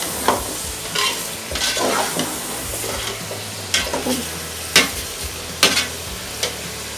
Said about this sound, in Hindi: अब हम इसको अच्छी तरह से फ्राई करेंगे।